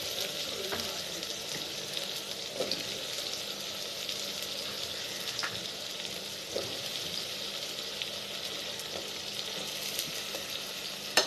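Onions and tomatoes sauté in a pan for a dried fish curry, giving a constant soft sizzle with occasional stirring clicks, close and steady without talk.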